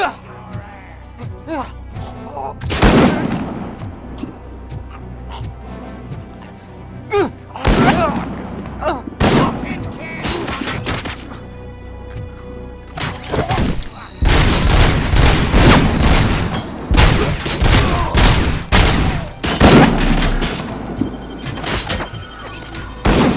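Gunfire in RoboCop: Rogue City, loud bursts of shots and heavy impacts spread across a tense firefight, broken by clanks and door-like thuds, with shouting voices in between.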